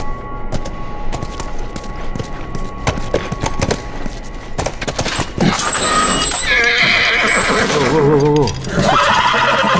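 A horse in The Last of Us neighs and whinnies loudly over clip-clopping hooves and busy game background sounds, the whinny rising and falling near the end.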